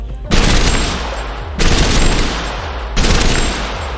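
FAMAS assault rifle in the video game TABG firing in three rapid bursts, each a dense loud stream of shots starting sharply and trailing off, close and alone with no talk.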